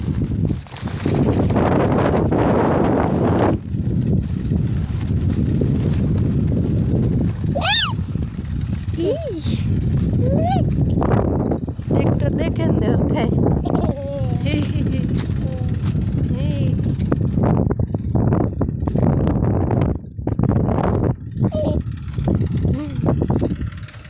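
Strong wind blows across an open farm field where a tractor is working, a loud, constant buffeting rumble that sits under intermittent voices throughout.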